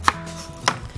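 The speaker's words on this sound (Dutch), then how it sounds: "Dan maak ze plakjes door het helemaal tegen de klokhuis aan te snijden." A knife cuts fruit into slices against the core on a cutting board, giving two sharp, close chops about half a second apart and then a softer third tap, with no talk.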